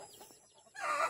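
A laying hen in a backyard coop clucks in a short, throaty burst that swells near the end, fairly close and not masked by other sounds.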